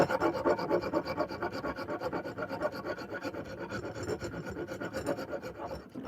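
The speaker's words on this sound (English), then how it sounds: "I'm using the round rasp part of the 4-in-hand here" Aggressive round rasp side of a four-in-hand rasp files the palm-swell undercut of a wooden hatchet handle, making steady, close, continuous rough rasping strokes with no talking.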